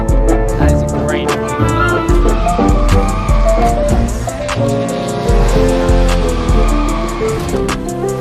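A custom sports car, likely a Maserati, driving hard with a loud, close engine roar that revs and shifts, punctuated by sharp tire squeals and skids throughout.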